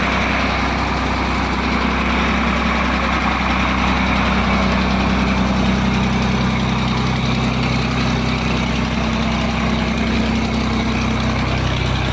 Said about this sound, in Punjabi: ਆਪਣਾ ਜਨਰੇਟਰ ਲੱਗ ਰਿਹਾ ਜੀ